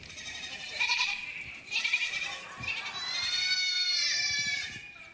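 A performer imitates a grazing sheep with his voice, giving a long, wavering, nasal bleat in several drawn-out pulses, close and fairly loud.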